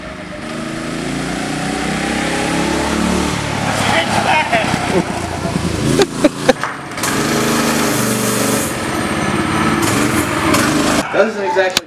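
Homemade redneck drift trike with a small engine driving outdoors, its buzzing motor rising and falling with some knocks and bumps, heard close while people talk over it.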